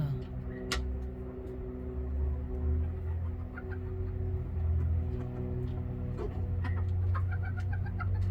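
Chickens cluck softly and intermittently while pecking at a bucket feeder, with scattered small taps and bird calls over a low background hum; no clear speech.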